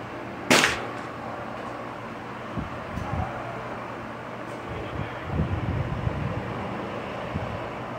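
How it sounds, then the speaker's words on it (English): A PSA AR10 rifle chambered in .308 fires a single Norma 150 grain soft point round at a 50-yard range, a sharp loud crack near the start followed by wind noise and faint handling sounds. "you can actually see the recoil impulse as I shoot"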